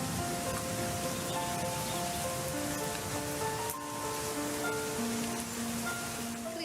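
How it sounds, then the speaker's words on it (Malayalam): Steady rain pours over the agriculture department stall at the Ente Keralam exhibition and sales fair in Kanakakkunnu, a dense, even hiss throughout with faint tonal sounds beneath it. "എന്നാൽ കനകക്കുന്നിൽ ഈ പെയ്യുന്ന മഴ"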